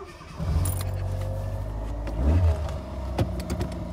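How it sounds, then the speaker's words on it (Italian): A Fiat Panda 141 engine cranks and catches, then settles into a steady low idle with a brief rev, heard close from inside the car, with a few clicks and rattles. "E quindi accendo la macchina, io suppongo."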